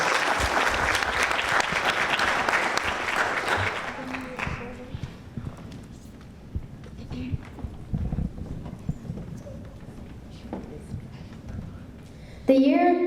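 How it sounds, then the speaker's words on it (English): Applause for a young spoken-word contestant at a school competition, a burst of clapping for the first four seconds that fades out, followed by quieter room sounds and a voice starting at the very end. "Let's give him a round of applause."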